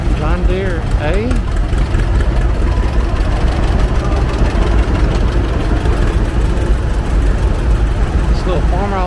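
An antique John Deere tractor, a Model A or Model 60, runs with a steady low rumble as it rolls past at a tractor show parade in Tennessee. The engine sounds close and loud throughout, with people talking over it.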